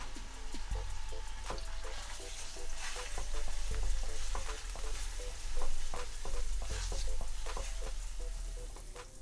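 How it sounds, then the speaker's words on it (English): Garlic and ginger paste sizzles in hot oil for a restaurant-style chicken tikka madras, with rhythmic spoon scrapes and taps over a steady frying hiss, close and moderately loud, no talking. "In with the garlic and ginger paste, stir through and cook for 30 to 60 seconds"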